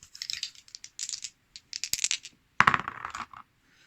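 Plastic dice for the Horizon Zero Dawn board game rattle and clatter across a tabletop in several quick bursts, close and crisp, with a final tumbling roll before going quiet.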